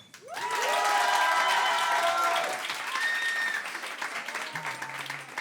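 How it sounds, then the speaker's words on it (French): Loud audience applause with cheering and whistles, a full crowd clapping steadily before easing off slightly toward the end. "Mesdames, messieurs, par applaudissement, qui pour Benjamin?"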